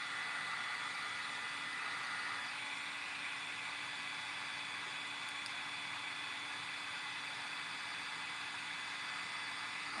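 A heat tool blows a steady, even rush of hot air at close range to warm a sticker off a thrift-store craft item, with a faint constant hum underneath and no talking.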